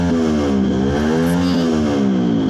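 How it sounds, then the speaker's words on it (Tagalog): Motorcycle engines revving loudly and continuously nearby, with the pitch rising and falling in repeated throttle bursts, as neighbors celebrate New Year. "So among mga silingan guys, nagparangrang na silang mga motor."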